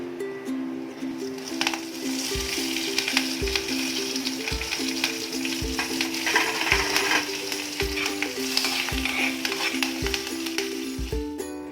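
Ginger and curry leaves sizzling in oil as a tempering for millet pongal, a continuous crackling fry with regular knocks of a spoon against the pan, close and fairly loud, no voices.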